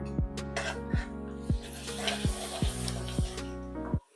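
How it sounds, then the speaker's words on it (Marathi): Ginger garlic paste fries in a pan for a veg white pulao, a soft, continuous sizzle under regular clinks or taps of a utensil against the pan, about every half second, close up. "याला पण चांगलं फ्राय करून घ्यायचं आहे."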